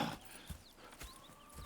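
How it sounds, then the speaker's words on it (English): Horses clip-clop on the ground in the video game Red Dead Redemption 2, a few soft, spaced hoofbeats heard faintly at a distance. "Go check the horses."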